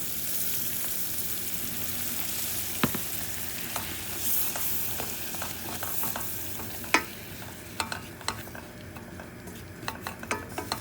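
Flour being stirred into sizzling butter in a pan to start a béchamel for baked mac and cheese: a steady, soft sizzle with scattered clicks and taps of a utensil against the pan, and no talk.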